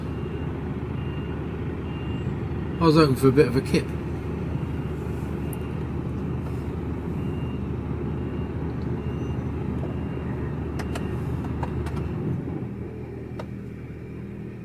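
Refrigerated truck with its fridge unit rumbling steadily as it parks beside a truck cab, a short burst of reversing beeps around three seconds, with someone speaking briefly over the droning engine.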